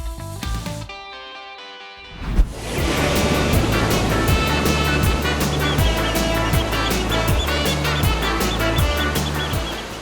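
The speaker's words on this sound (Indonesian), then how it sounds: "menikmati suasana pantai di daerah Sayang Heulang Garut nih" Sea surf rolls in at Sayang Heulang beach in Garut at low tide. After a brief musical intro, a steady loud wash of waves fills the rest of the clip.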